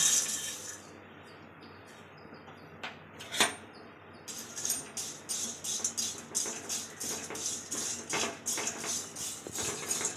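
Dry Maggi noodles being roasted in a kadai, a scraping, rustling patter of stirring that grows busier and more rhythmic after a brief quiet stretch, with occasional sharper clinks of the utensil against the pan.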